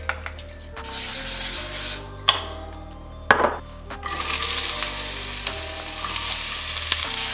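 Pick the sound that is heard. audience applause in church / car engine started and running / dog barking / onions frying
onions frying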